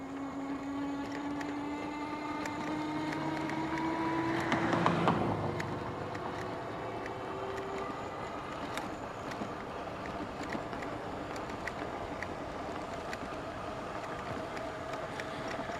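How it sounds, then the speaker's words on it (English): A KBO Breeze electric bike motor runs at full throttle while riding uphill, giving a steady mid-level hum and whine with rising and falling tones and a brief louder swell partway through, with outdoor noise around it. "Look how weak this motor is. I have it full throttle right now."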